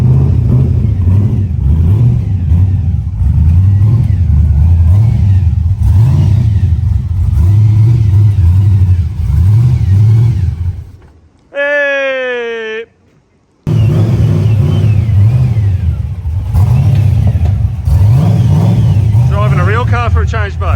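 A car engine revs and accelerates under loud, almost constant talk from people inside, with a rising and falling engine note, a short break filled by a different tonal sound, then more driving noise.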